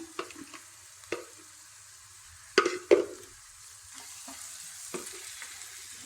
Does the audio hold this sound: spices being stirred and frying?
yes